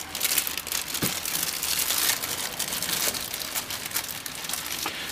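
Packaging for a key cutting machine is unwrapped close by, giving a continuous crinkling and rustling of plastic and paper with a few sharper crackles and no talk.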